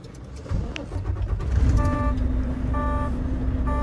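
Truck engine starting during a pre-trip inspection: a short cranking burst catches into a steady low idle rumble, with a couple of brief electronic warning beeps over it.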